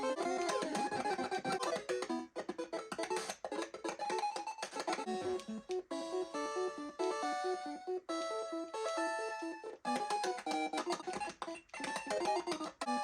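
Sped-up Pokémon game music played on an Analogue 3D, bright, busy and continuous, with rapid chiptune-like melodies and dense stacked tones filling the whole stretch without pause.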